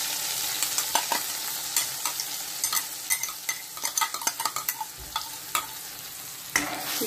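Spice paste for a quail curry frying in a pan: a constant bright sizzle with quick clustered scraping and tapping stir strokes, close up and without voices.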